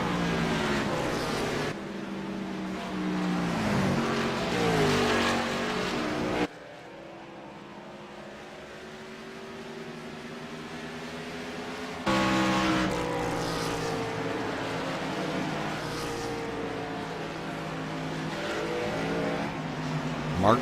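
Race cars roar past on a greasy oval track, engines droning loud and close with rising and falling pitch as they sweep by, one after another in a steady stream.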